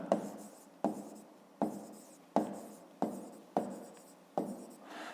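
Pen strokes on paper while writing out a maths solution, seven firm scratching strokes in a steady rhythm, close and fairly quiet, with no talk.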